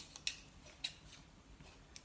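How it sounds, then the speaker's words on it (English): Sharp, crisp snips of a large pair of scissors hand-trimming stiff cardstock, a few quiet cuts spaced irregularly in an otherwise quiet room. "If you get a nice big pair of scissors"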